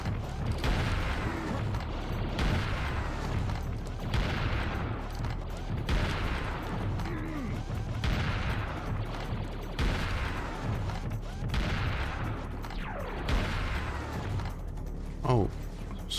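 Repeated shotgun blasts and weapon fire from the shooter Serious Sam: The First Encounter, steady rhythmic shots every second or so, loud and close, with some game effects and a voice mixed in.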